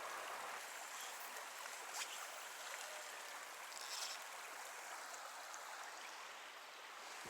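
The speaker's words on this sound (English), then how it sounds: "where the slack water meets the flowing current of the main river" River current flowing where slack backwater meets the main flow at a trout fishing spot, a soft steady wash of moving water heard faintly throughout with no voices.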